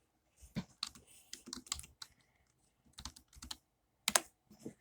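Bursts of typing on a computer keyboard, with quick clusters of key clicks separated by short pauses, close and fairly clear, with no talking.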